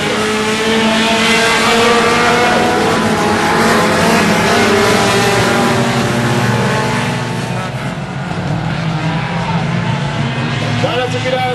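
Four-cylinder race cars roar continuously around a track at St-Marcel, Quebec, the loud engine drone rising and falling as the pack passes, with no break in the noise.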